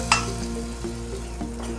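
Fried onions tipped into a prawn curry cooked with kudampuli, hissing and sizzling loudly up close, with a sharp burst at the start and then a steady crackle under light stirring.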